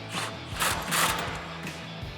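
An 18mm swivel socket on an impact gun tightens a through bolt on a Tacoma suspension lift, giving a mechanical ratcheting buzz in several short bursts that stand alone with no talk.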